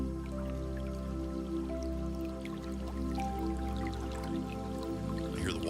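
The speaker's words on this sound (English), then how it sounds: "I hear the water." Water runs and trickles steadily with a dripping, splashing texture, continuous and moderately close, while a sustained tonal hum sits underneath.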